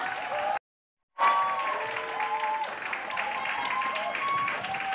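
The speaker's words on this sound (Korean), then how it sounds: "이그제큐티브 브랜드 앰베서더 강현중 사장님을 큰 박수로 모시겠습니다" Seminar audience applauds to welcome a business speaker onto the stage, a steady spread of clapping after a brief cut, with voices and tonal sounds mixed in at moderate level.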